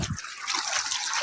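Irrigation water flows steadily through a farm field, a close, continuous rushing and hissing stream heard on its own.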